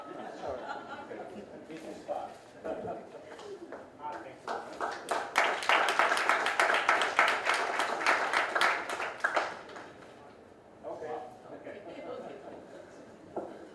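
An audience at a landscape architecture scholarship evening applauds Italian speaker Giulio Ceppi, a dense burst of clapping swelling in the middle and fading, with talk and murmuring chatter before and after.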